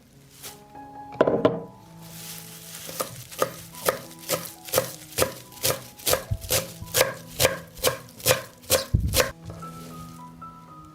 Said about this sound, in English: I will chop fresh parsley.